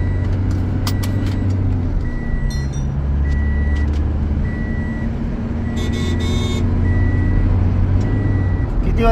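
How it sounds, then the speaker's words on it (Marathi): Engine drone and road rumble from a car moving at speed on a highway after tyre nitrogen filling and wheel alignment, a steady close hum with repeated short electronic beeps from inside the cabin. "आता आपण गाडी पळवू."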